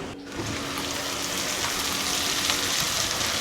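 Fried potatoes being sautéed with spices in a pan for an aloo potol curry give off a steady, close sizzle with a faint stirring scrape throughout.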